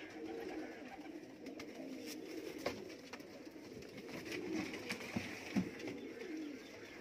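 Sialkoti pigeons in a loft coo softly and repeatedly, low rolling calls with a few flutters and clicks, faint and fairly close against a steady room background.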